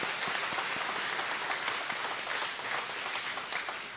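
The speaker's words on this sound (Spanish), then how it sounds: "A ellos también un aplauso también." Congregation clapping at an Easter Vigil Mass in a church, a steady, moderately loud patter of many hands that carries on evenly throughout and tapers slightly at the end.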